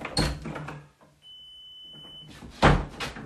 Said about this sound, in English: As soon as I opened this door, that went off.